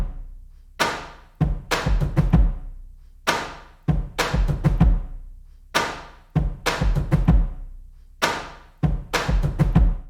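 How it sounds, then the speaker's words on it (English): Bombo drum struck in a steady pattern of deep, booming hits, played as four separate takes spread across different speakers; loud, close strikes in repeating groups with short pauses, no voices. "The first instrument here is a bombo drum"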